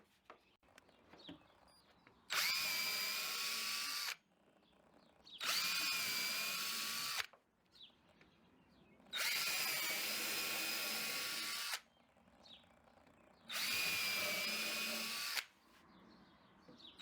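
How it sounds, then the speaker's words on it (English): Drill driving regular exterior screws into a wooden raised garden bed, four loud whirring bursts of about two seconds each separated by quiet pauses, close up. "You want to repeat this process after you put your screws right in the front there."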